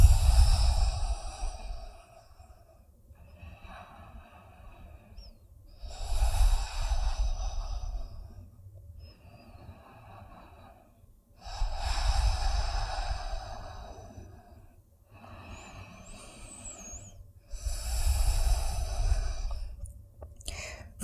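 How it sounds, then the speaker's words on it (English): Slow, deep breaths taken during a yoga relaxation while lying on the floor in a backbend session, with four long, soft exhale swells rising and fading in a steady rhythm, close and fairly quiet with no talking. "We take a few deep breaths."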